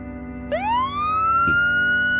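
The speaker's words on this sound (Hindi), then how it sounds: "रात की सायरन जैसी आवाज अब भी उसके कानों में गूंज रही थी" A siren winds up sharply and holds a steady, loud wailing tone, with a brief burst of noise partway through.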